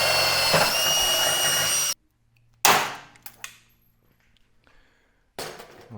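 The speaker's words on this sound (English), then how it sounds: "so I got to drill that from the inside." A power drill bores through the drawer of a Harbor Freight tool cart from the inside: a loud, close whine that cuts off abruptly, followed by sharp metallic clanks and a renewed burst of drilling.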